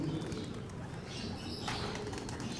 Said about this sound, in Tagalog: nakabalik lahat mga kalapatids